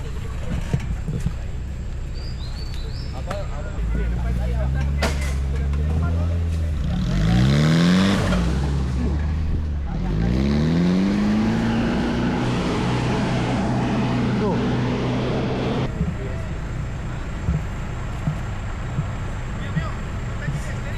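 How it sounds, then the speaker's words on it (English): A vehicle's engine strains and revs while towing a Land Rover out of a deep hole on a jungle camping trip, rising and falling in surges, with people talking over it. "The vehicle in front is trying to tow it out."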